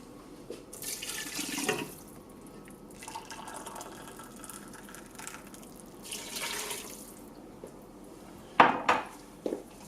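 Hot water is poured into a cooking pot holding vegetable stock cubes and stock pots while Nigerian fried rice is made, giving two rushing, splashy bursts, followed near the end by a sharp metallic clatter of pot or utensil.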